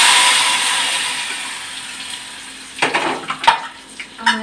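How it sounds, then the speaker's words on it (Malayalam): Mustard seeds tempering in hot oil for sambar give a steady frying hiss, then several sharp, close crackling pops burst out in quick succession toward the end. "അങ്ങനെ നമ്മുടെ സാമ്പാറിന് കടുക് വറുത്തു."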